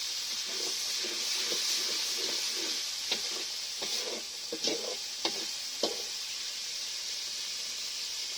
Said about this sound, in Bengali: পুরোপুরি ভাবে ভালোভাবে কষে তারপরে মাছটা দিয়ে দেওয়া হবে